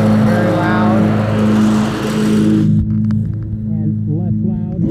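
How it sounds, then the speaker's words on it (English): An engine runs steadily with its cutter engaged, a loud, dense roar with a strong low hum, its bright upper noise dropping away partway through while a voice speaks over it. "Now I'm gonna engage the cutter. As you can tell, it's quite a bit louder."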